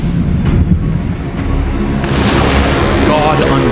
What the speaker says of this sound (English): God unleashed a storm upon the sea.